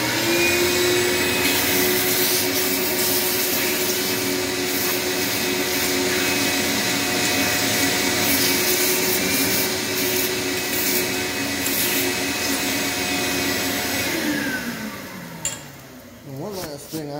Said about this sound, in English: Let's vacuum it off.